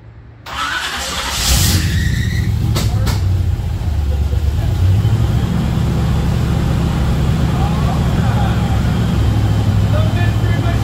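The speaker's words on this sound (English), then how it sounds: "Van's working. Oh, she's gonna run." A Mystery Machine van engine cranks and catches after a short start, then settles into a loud, steady running rumble close by, with a voice speaking over it early on.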